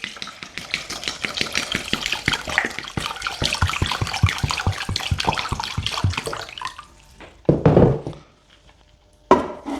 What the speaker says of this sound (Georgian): დავასხათ წყალი.